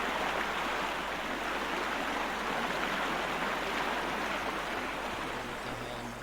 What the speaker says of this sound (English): That water makes so much noise.